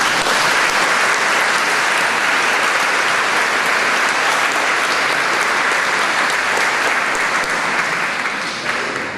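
Loud, dense applause fills a church at its inauguration, the St Gilles parish crowd clapping steadily for several seconds before tapering near the end.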